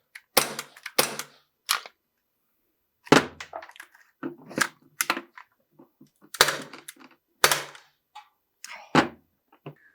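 Plinking pistols fired at an outdoor shooting range: sharp, close shots in quick bursts of two or three, separated by short pauses, with faint metallic clinks and handling noise between strings.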